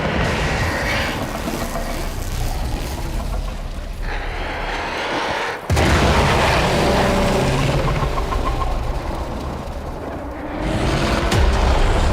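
A loud, dense explosion in the sci-fi video game Warframe, a sustained roaring blast with a sharp burst partway through followed by continued heavy rumbling debris noise, with no voices.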